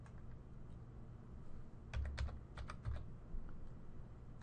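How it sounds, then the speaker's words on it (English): A four-digit PIN typed on a computer keyboard: a handful of quick, close key taps clustered in the middle, faint and quiet, with no talking. "type in your 4-digit PIN"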